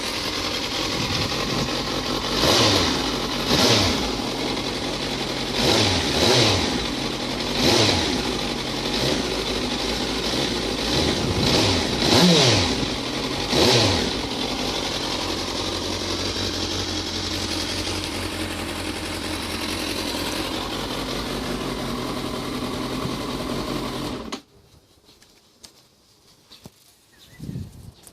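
Suzuki GSX650F motorcycle with stock exhaust on a cold start, engine idling with repeated rhythmic revs and blips, loud and close, then cutting off abruptly to near silence near the end.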